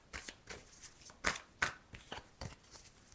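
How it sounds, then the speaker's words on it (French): Cards shuffled and spilling during a reading, with a series of quick papery flicks and soft slaps in uneven bursts, close and faint. "Mais elles n'arrêtent pas de tomber, les cartes."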